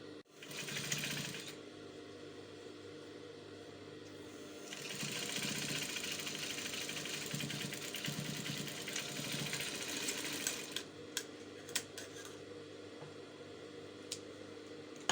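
Sewing machine back stitching elastic on an off-shoulder umbrella dress, a steady close whir in long runs, with a few pauses and then light clicks and taps toward the end.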